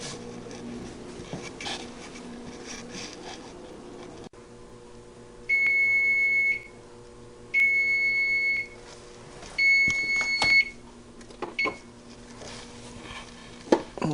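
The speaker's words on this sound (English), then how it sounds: "Set your timer for 30 minutes" A kitchen timer being set beside an oven for bread baking, giving three separate sustained electronic beeps spaced a couple of seconds apart, over quiet kitchen handling noises.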